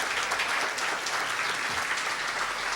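A church congregation applauds at a Sunday morning service in San Salvador, a steady dense wash of clapping held at an even level for the whole stretch, with no voices over it.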